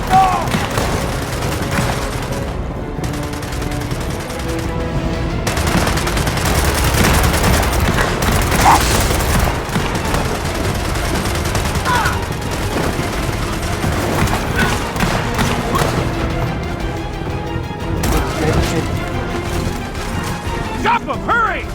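Sustained gunfire rattles through a Gears of War 4 firefight, bursts of automatic fire and heavy impacts crashing continuously with brief booms, loud and dense, with soldiers' voices shouting over the din.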